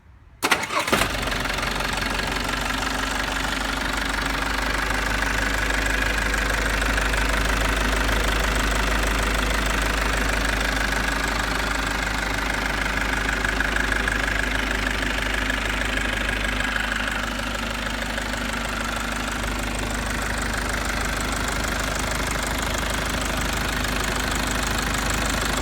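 A Mitsubishi J53 turbo diesel Jeep engine catches instantly after cranking, then settles into a steady, loud, clattering diesel idle that runs close and unbroken for over twenty seconds with no talking.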